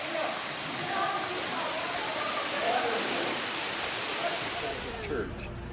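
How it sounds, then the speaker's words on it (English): Constant roaring rush of a waterfall in El Salvador, loud and close, a dense steady wash with no pauses. "this is where the water's coming from for that waterfall"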